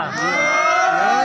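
A large crowd at a Muharram majlis raises a loud, sustained collective chant of voices in unison, swelling briefly and holding steady.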